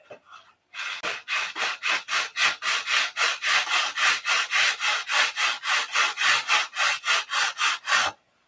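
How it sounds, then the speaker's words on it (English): Rhythmic back-and-forth sanding strokes on a model P-47 fuselage part, roughly two dozen close, steady, evenly spaced rasps with no talking. "You want to sand and fit so that thing just fits on there perfect."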